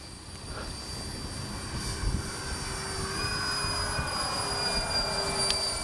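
An X-Fly J-65 RC model jet on a low gear pass, retracts and landing flaps down, gives a steady turbine whine and roar that swells gradually as it goes by at moderate distance, with no voices.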